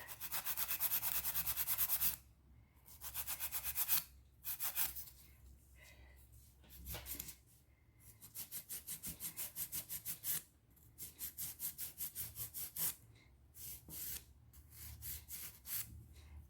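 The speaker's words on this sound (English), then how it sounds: "Now I'm going to take my 100 grit file, and I'm just going to finish off the shape." A 100 grit file shapes a fingernail in quick, close, rhythmic strokes, short bursts of rasping back-and-forth rubbing separated by brief pauses.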